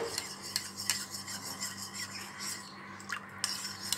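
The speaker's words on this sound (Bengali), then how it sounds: "এবার এই সামান্য দুধের মধ্যে আবার এখানে আমি কর্নফ্লাওয়ার মিশিয়ে নিচ্ছি।" A spoon stirs cornflour into a small amount of milk for custard semai, making steady, rhythmic scraping and swishing strokes close by, fairly soft, with no talking.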